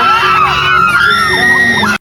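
Students crowded in front of the stage at a large regional school pageant shout, whoop and cheer together in a loud, sustained burst of excited young voices that continues without pause.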